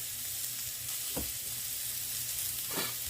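Golden oyster mushrooms browning in a heavy skillet give a quiet, continuous sizzle, broken by a couple of soft stirring scrapes.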